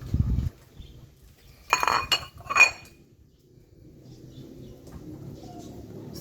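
Okra goes into a pot of salmon sinigang with two sharp bursts of clinking and clattering near the middle, set against a low kitchen background.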